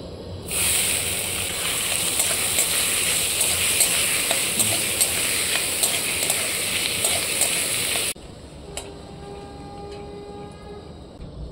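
Onions dropped into hot mustard oil and ghee in a kadai, cooked outdoors, give a loud, dense sizzle and crackle that runs steadily for about eight seconds, then cuts off to a quieter background with faint tones.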